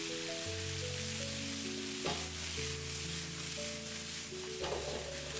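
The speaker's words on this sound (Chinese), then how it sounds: "接下來加入切好的蔥薑蒜，快速翻炒均勻" Scallion, ginger and garlic stir-fry in a wok with a steady, close sizzle, broken by two louder scraping tosses of the spatula, over quiet background music.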